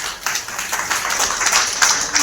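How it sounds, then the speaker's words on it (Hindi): Audience clapping at an indoor gathering, a short burst of brisk, close hand claps overlapping into loud uneven applause. "तालियां बजाइए।"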